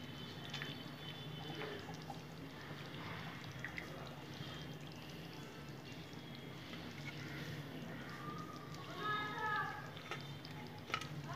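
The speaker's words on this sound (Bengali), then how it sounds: "এখন আমি চিতল মাছগুলো দিয়ে দেবো একে একে" Pieces of chital fish go one at a time into a bubbling Bengali kaliya curry with green chillies, over a steady close simmer and sizzle, with a few soft plops and a brief clink near the end.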